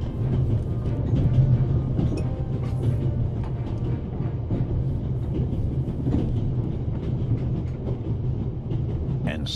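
A train rumbles along in the video game The Raven Remastered, a steady low mechanical drone with faint rhythmic clatter that continues evenly and fairly loud from start to finish.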